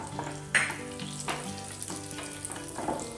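Urad dal and black mustard seeds sizzle in hot oil in a pan, a soft continuous fry broken by a few sharp crackles and pops.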